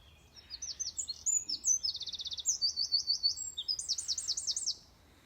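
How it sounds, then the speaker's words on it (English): Songbirds sing close by in a quiet outdoor setting, with rapid bright trilling chirps repeating in quick phrases for several seconds before falling silent. "I'm so blessed to have these beautiful songbirds around me."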